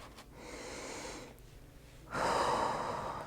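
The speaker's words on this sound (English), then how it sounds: "I'm breathing into my core just to connect." Deep, slow breaths drawn in and released during a calm energy meditation, audible as broad airy rushes with a brief pause before a louder, fuller exhale near the end.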